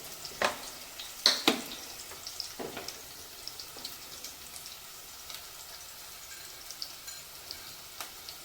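Ingredients sauté in oil in a pan with a soft continuous sizzle, broken by a few sharp scrapes and clinks of a spoon near the start and occasional lighter taps later, with no talking.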